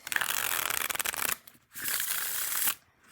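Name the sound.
tarot card deck being shuffled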